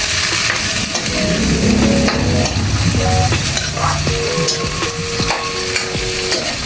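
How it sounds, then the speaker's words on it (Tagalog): Ground pork giniling sizzles and fries in a pan while being stirred, a loud steady crackling hiss broken by scraping and clinking of the utensil against the pan, with no talking. "Lalagyan na natin yung giniling"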